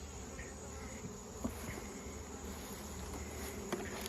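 Dense, steady drone of honey bees swarming around large honey-producing hives, a continuous close buzz filling the air with a few faint knocks underneath and no talking.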